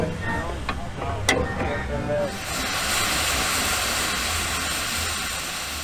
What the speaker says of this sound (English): like the impressive Sentinel DG4 steam wagon, lovingly preserved by its dedicated owner, Edward Goddard.